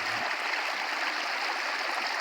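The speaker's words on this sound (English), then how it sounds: "this little brook that's happening, you know, this water is always flowing." A little brook with water flowing, heard as a close, constant rushing and burbling that stays even from start to finish, with no voices.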